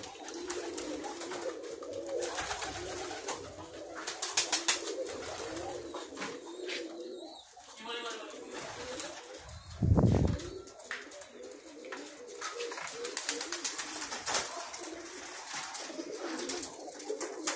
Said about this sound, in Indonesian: ini Merpati yang mewakili Odik ya, karena berpasangan